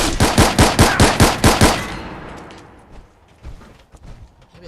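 Rapid automatic gunfire in Fallout 4, about eight loud evenly spaced shots in a quick burst, then fading into quieter scattered combat noise and distant shots.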